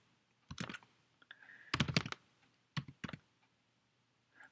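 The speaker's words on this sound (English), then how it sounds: "I guess you can see how great my typing is tonight." Bursts of keystrokes on a computer keyboard, clustered clicks in quick runs separated by short pauses, close and moderately loud with no talking.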